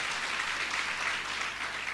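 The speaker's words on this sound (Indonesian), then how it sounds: "Berikan tepuk tangan." Steady, dense applause from a church congregation at a Sunday service fills the whole stretch, even and sustained with no voices standing out.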